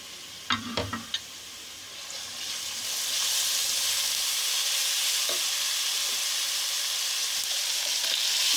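Whole garam masala spices, garlic and ginger hiss and sizzle in hot oil, a steady frying crackle that rises and fills out after a few clinks and stirs near the start.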